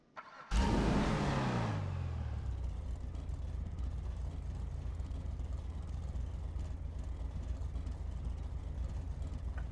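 A muscle car in the GTA video game roars to life with a loud burst, then settles into a steady, deep, rumbling idle that holds for several seconds.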